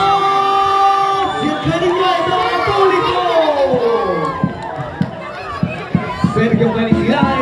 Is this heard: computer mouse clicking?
no